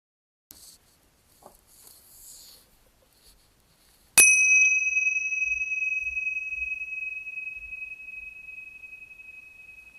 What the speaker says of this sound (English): And then when you hear the bell,